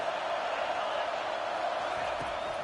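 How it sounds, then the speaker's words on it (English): Home crowd at a Kansas State vs Kansas college football game roaring loudly, a dense, steady wall of cheering that holds at full volume throughout without pause. "how nice is it to have the home crowd going absolutely bananas?"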